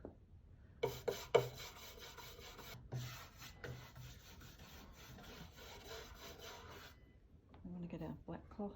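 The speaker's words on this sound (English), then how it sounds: "Rubbing it all over, especially in these grooves at the end" A cloth rubs black wax into the grooves of wooden furniture. Soft, close, rasping strokes repeat continuously for several seconds, then give way to a few light handling sounds.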